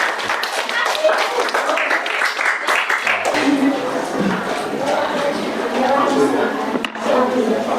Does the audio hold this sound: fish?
no